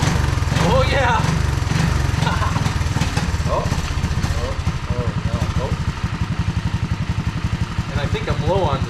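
A Honda ATC185S three-wheeler with a Mikuni carburetor runs steadily close by, its loud engine chugging in a fast, even rhythm throughout while a person talks over it.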